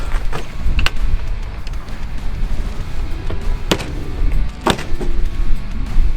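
A car boot lid fitted with a new seal closes with a couple of close, sharp thuds and mechanical clunks over a constant low rumble.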